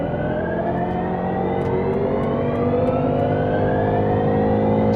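A BMW 530e plug-in hybrid's 190-horsepower engine revs hard and steadily in sport mode, its pitch climbing smoothly over several seconds, loud and close with no talking.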